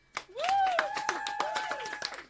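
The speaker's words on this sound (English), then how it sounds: "Give them a round of applause." A studio crew gives scattered applause for two singers, with a handful of distinct claps at a brisk uneven rhythm, heard under a voice whose tones rise and fall across the whole moment.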